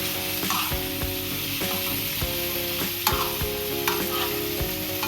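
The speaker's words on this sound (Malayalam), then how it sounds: "ജസ്റ്റ് ഒന്ന് ഫ്രൈ ചെയ്യാൻ നമുക്ക് വെക്കാം" Paneer frying in a little oil, a continuous crackling sizzle with repeated clicks and scrapes of a spatula stirring through the pan, fairly close and loud.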